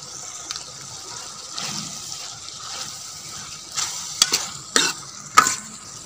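Chana dal and ridge gourd stirred in a hot pan, with a quiet sizzle underneath and several louder scraping strokes of the spoon toward the end.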